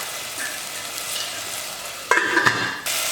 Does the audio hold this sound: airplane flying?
no